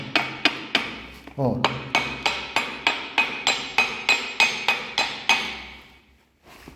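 Wooden parquet floor blocks, freshly refitted, are tapped with a tool in about fourteen sharp, evenly spaced knocks, close and resonant, with a short spoken syllable early on.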